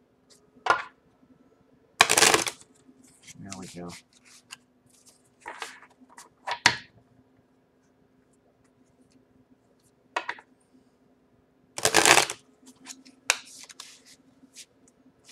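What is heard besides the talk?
shuffling tarot cards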